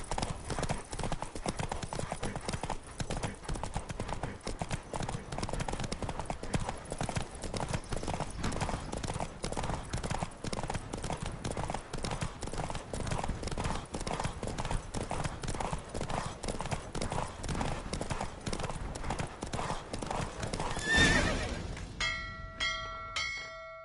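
A horse gallops in a race in The Witcher 3 video game, rapid rhythmic hoofbeats pounding steadily and close for about twenty seconds before ending abruptly, followed by faint bell-like chimes.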